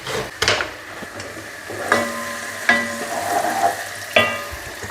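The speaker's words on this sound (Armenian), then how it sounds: "Կամաց թող տապակվի ու բազուկը" Chopped carrots and beetroot fry in a pan for borscht, giving a loud, steady sizzle broken by a few sharp scrapes and knocks of stirring, with no voices.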